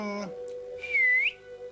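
A sharp, rising whistle blown to summon a servant, heard once and fairly loud after a faint sustained tone, with no talking during it.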